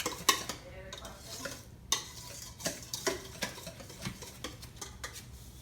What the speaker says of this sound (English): And then I begin to mix it.